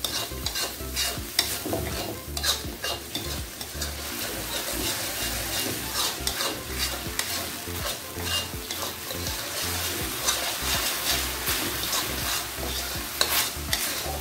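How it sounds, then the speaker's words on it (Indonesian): Shrimp sambal with a splash of water is stirred in a frying pan, continuous scraping and clattering strokes over a steady sizzle, close and fairly loud throughout. "Lalu diaduk lagi."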